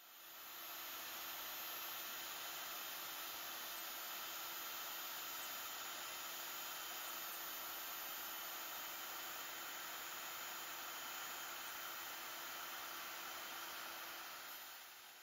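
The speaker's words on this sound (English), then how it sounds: "this is my first time ever using a magnetic drill" A magnetic core drill runs in a steady, unbroken mechanical drone with a faint high whine for the entire stretch, no voices.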